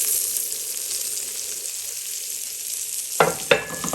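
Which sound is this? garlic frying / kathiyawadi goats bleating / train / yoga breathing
garlic frying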